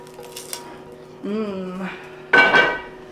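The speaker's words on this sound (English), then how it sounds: "Now I'm just going to go ahead and put in our onions." Onions go into a pot of Mexican beef stew, producing a short, loud clatter and rush of sound near the end, after a brief vocal sound and faint kitchen noise.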